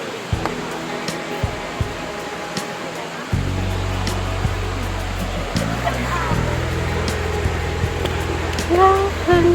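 Heo Narok waterfall in Khao Yai National Park rushes as a steady broad roar, with wind or handling bumps on the recorder and a low rumble joining partway through.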